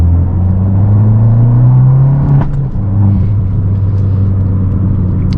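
An Abarth 500C with an automatic gearbox drives along, its engine holding a loud, steady droning hum from inside the car, dipping briefly as the pitch shifts midway, then settling back into a continuous rumble.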